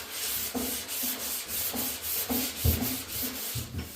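Steady rhythmic back-and-forth rasping of worn, clogged 120 grit sandpaper worked by hand over the steel body of a 1969 Chevy Nova, close and continuous with regular strokes about every half second.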